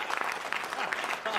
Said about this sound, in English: That was an applause break.